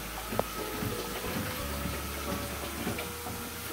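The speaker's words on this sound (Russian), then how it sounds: "И Джанелл моет посуду" Dishes washed under a running kitchen tap, a continuous rush of water with occasional clinks of crockery, close and steady.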